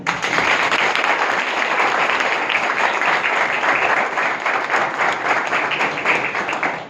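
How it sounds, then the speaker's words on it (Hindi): Sustained audience applause at a bank exam results gathering for selected candidates, a dense, steady roar of many hands clapping alone, without talk, for several seconds before fading at the end. "जोरदार ताली"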